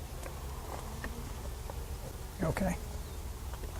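Faint buzzing of honey bees at a comb in a top bar hive, in a steady low background, with a brief louder buzz as one passes close; a person speaks a single word.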